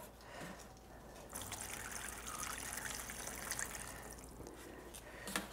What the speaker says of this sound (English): But you can add water to those